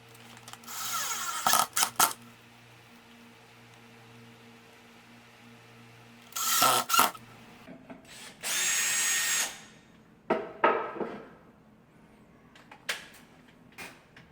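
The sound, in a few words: drill driving screws to hang a wall shelf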